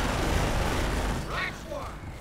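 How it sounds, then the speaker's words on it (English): Small arms gunfire in the World War II strategy game Company of Heroes, a dense, steady crackle of rifle and machine-gun shots with some deeper booms, continuous throughout and mixed with brief game voice callouts. "Squad is taking small arm fire!"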